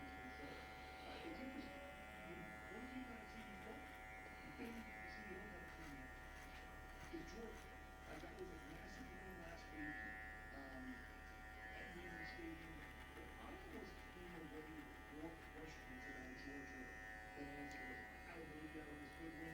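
Electric hair clipper buzzes in a steady low drone throughout a barber's low shadow fade with skin fade, running continuously while someone talks over it.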